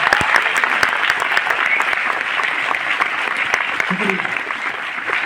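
Dense applause from a large audience fills a success celebration in Delhi, steady and loud throughout, with a few sharper claps standing out.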